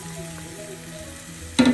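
Carrot and bitter gourd thoran cooks in a pan with a soft, steady sizzle and faint stirring, ending in a sudden louder splash of sizzling as something is added.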